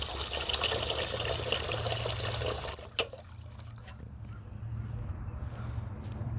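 Water is poured out for puppies outdoors, a splashing trickle that stops abruptly with a sharp clatter, followed by quiet low rumbling.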